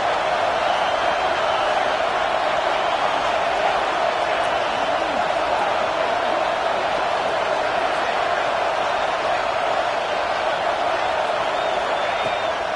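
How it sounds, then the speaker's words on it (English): A stadium crowd roars steadily in the NCAA 26 college football video game, a loud sustained wash of cheering on a red-zone third down, with faint play-by-play commentary underneath. "this crowd is at fever pitch"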